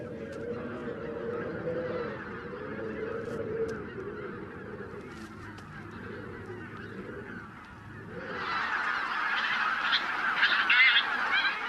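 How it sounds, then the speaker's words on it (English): Wild geese honking at a snowy winter wetland along the Morava River, repeated calls from a flock that start moderate and grow into a louder, busier chorus toward the end. "The wild geese have drawn out their stopover as long as possible."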